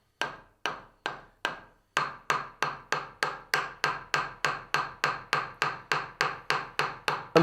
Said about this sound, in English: I'm hitting the handle quite firmly with the mallet.